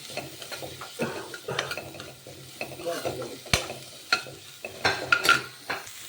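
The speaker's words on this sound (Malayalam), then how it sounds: "അപ്പോൾ ഇങ്ങനെ ഒന്ന് വഴറ്റി വെച്ചോട്ടാം" Vegetables sautéed in a pan for a vegetable soup, a soft sizzle broken by repeated scrapes and knocks of a spoon stirring against the pan, close and uneven in rhythm, with no voices.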